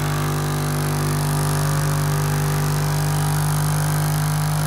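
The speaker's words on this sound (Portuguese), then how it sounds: "Agora eu vou ligar o gerador" An Adams-type pulse motor drives a generator, making a steady, unbroken mechanical hum with a strong low drone and broad whirring noise throughout.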